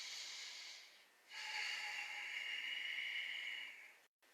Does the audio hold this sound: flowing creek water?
no